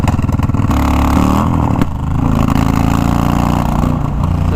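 A cheap auction motorcycle bought for $200 runs loud and close, its engine rising and falling through several revs with a rough, pulsing mid-range note, briefly dipping before settling into a steadier throttle.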